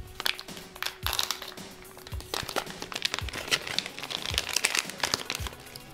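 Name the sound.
opening a plastic snack packet of smoked quail eggs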